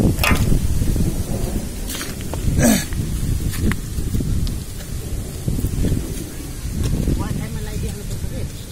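Heavy storm noise with pelting impacts and deep rumbling thunder, while voices talk over the downpour.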